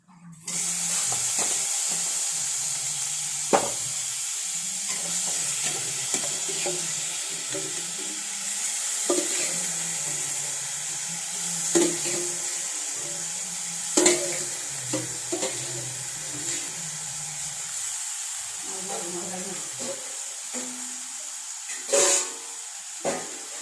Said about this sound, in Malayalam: കടല തിളച്ചിട്ടുണ്ട് വാരി അതിനകത്ത് തരാം